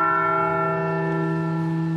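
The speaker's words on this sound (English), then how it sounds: "the replica Liberty Bell across from the state capitol rang in honor of" A replica Liberty Bell across from a state capitol rings out with a single sustained, loud metallic tone whose rich overtones hum steadily as it decays slowly, with no voices.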